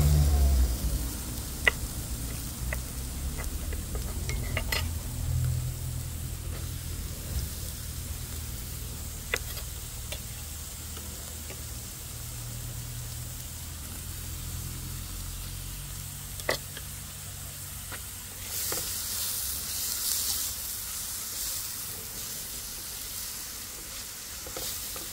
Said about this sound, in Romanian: Călim la foc mai mic.